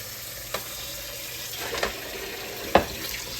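Water runs steadily from a sink tap over chitterlings in a colander, a constant close hiss broken by a few soft knocks and splashes, with no talking.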